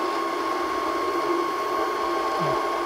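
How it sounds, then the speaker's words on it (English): Monoprice Mini Pro 3D printer printing an articulated slug from flexible TPU filament, giving off a steady mechanical hum with faint whirring and ticking from its moving motors, close and fairly quiet throughout. "Printing a articulated slug right now."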